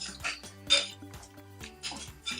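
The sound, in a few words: mixing spaghetti omelette in a dish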